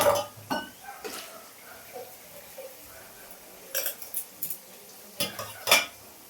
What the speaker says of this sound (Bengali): সমস্ত বাসন ধোয়া হয়ে গেছে